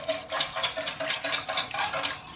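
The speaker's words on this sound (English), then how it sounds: "I'm going to whisk all of these ingredients together, making sure to get those egg yolks broken up" Dough ingredients and egg yolks whisked in a bowl for homemade hamburger and hot dog buns, a steady rapid clinking and scraping of the whisk against the bowl, close and fairly loud, with no talking.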